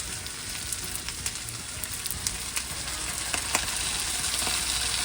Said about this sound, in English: So now I'm going to add in all of that cleaned and drained out shrimp.